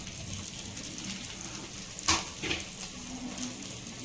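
Small paneer cubes frying in a pan: a continuous low sizzle with a sharp clatter and splash as pieces drop in midway.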